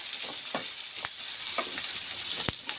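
Onions and green chillies frying with cumin seeds in hot oil tempering, a continuous bright sizzle close up with occasional crackles and stirring, no voices.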